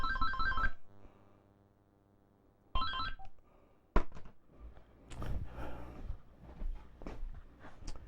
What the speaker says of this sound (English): I hear that phone ringing